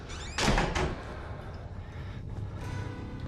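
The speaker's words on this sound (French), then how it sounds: "Pourquoi faut-il toujours qu'il claque la porte lui?" A door slams in the horror video game Outlast, a loud close impact with a short double thump, followed by a lingering dark ambient hum.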